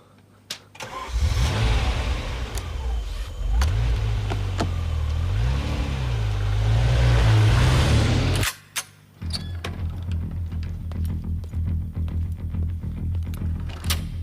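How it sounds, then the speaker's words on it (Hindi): A car engine starts up near a lab and revs hard, rising and falling in pitch for several seconds, then cuts out briefly before settling into a lower rumbling drive as the car gives chase. "एक गाड़ी हमारा पीछा कर रही है लैब से।"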